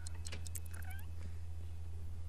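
A cat in The Sims 3 video game meows a few short times over a steady low hum of game ambience, close and moderately loud.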